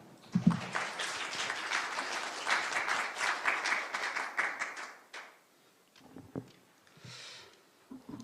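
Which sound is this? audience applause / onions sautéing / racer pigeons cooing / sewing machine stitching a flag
audience applause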